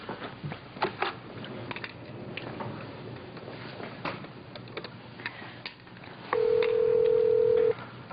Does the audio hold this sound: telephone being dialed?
yes